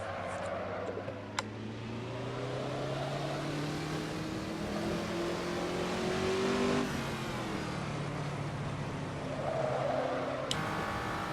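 Race car engine in the Assetto Corsa racing game revving through the gears, a steady whine that climbs in pitch, drops sharply at a shift near the middle, then climbs again, with no talk.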